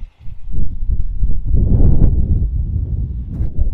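Strong wind buffets the microphone on a bricklaying site under darkening skies before rain, with a steady low roar and gusting rumble, no voices heard.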